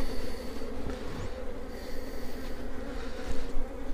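Honey bees buzz steadily at an opened beehive during drone-comb removal, a dense continuous hum close by with no voices.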